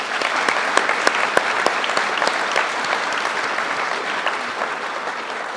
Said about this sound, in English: Let us give one more round of applause for Command Sergeant Major Haight.